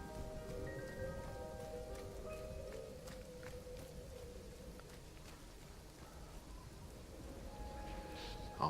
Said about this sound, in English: All rainy and lightningy.